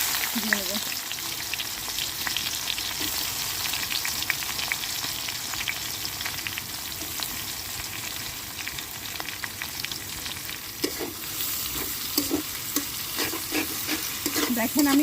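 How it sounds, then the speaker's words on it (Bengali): Onion and chili fry in plenty of hot oil left over from cooking fish, giving a dense, continuous sizzle. Frequent scraping and stirring strokes sound up close, and sharper clatters come near the end. "মাছের মধ্যে একটু তেল বেশি করে দিয়েছি কারণ এই তেলে পেঁয়াজ মরিচটা ভেজে নেবো"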